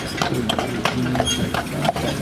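Hooves of horses pulling a tour carriage on Mackinac Island clip-clop in a steady, close rhythm, with continuous street and wheel noise underneath and no talk.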